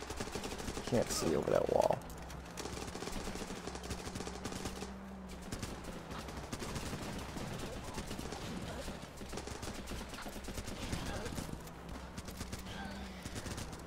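Rapid gunfire crackles through a battle in the video game Running with Rifles, a dense burst early on and then steady shots under the noise, while someone talks over it.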